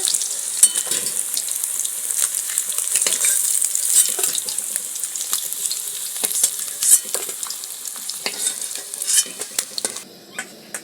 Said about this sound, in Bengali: বাকি মাছগুলো সব এইভাবেই ভেজে দেব